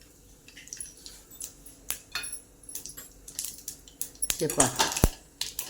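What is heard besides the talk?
mustard seeds crackling in hot oil for tempering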